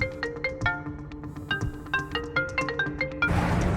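A mobile phone rings with an incoming call, a repeating electronic melody of bright tonal notes in a steady rhythm, close and clear, ending with a burst of noise.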